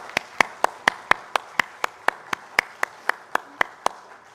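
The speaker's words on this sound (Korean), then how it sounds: "하나님께 영광의 박수 올려드리겠습니다." A church congregation claps in a steady, slow unison rhythm, about seventeen crisp, evenly spaced claps ringing out without any talk.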